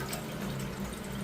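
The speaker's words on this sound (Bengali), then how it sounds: "এই আমি জল দিয়ে দিলাম" Water is poured into a kadai set up for steaming ilish bhapa, a steady close splashing fill with no speech over it.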